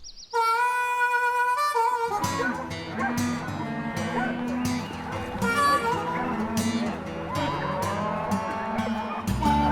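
Cattle low repeatedly while being driven up a steep mountain slope, the moos loud and overlapping in a dense, continuous herd sound after a brief tonal opening.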